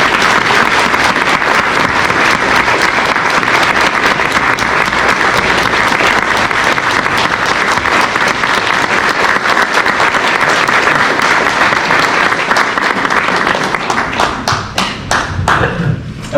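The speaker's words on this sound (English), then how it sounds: "Could we please have a round of applause for Aircraft Woman Cracknell?" Sustained audience applause for a veteran at a local veterans' honouring ceremony, dense and loud clapping throughout that thins and fades over the last few seconds.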